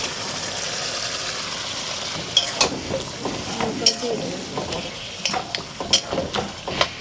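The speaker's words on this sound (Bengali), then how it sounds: "মাংসটা এবার দিয়ে দিলাম" Chicken sizzles in a pot of spiced masala for pulao, with a steady frying hiss and a run of sharp stirring clatters in the second half.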